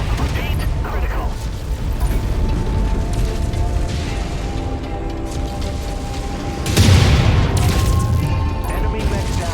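An enemy mech is destroyed in MechWarrior 5: Mercenaries: a busy rumble of game machinery and weapons builds to a loud, heavy boom near the end, with voice lines from the game heard over the action.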